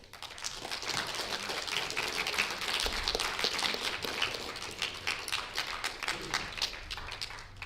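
A spelling bee audience applauds a correct spelling with steady, moderately faint clapping from a modest crowd that carries on for several seconds.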